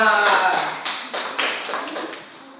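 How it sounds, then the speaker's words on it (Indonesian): A university class claps for a classmate, a short round of scattered handclaps that starts just after a voice and fades over a couple of seconds. "Tepuk tangan."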